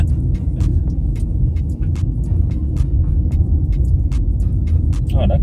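A car rolls slowly past near a public beach in Lucea, Hanover, giving a steady, close engine hum and tyre rumble, with faint scattered clicks over it.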